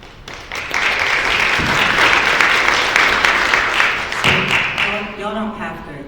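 An audience at a music business panel claps in a dense, loud burst of applause lasting several seconds before fading, with voices at the start and as it trails off.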